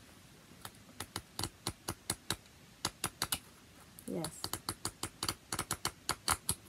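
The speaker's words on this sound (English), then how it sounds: "ASMR of, you know, the pad of paper being shuffled" A pad of white, acid-free, heavyweight glue-bound painting paper is shuffled and flicked, making a run of crisp, quick taps and rustles up close. A single word is spoken partway through.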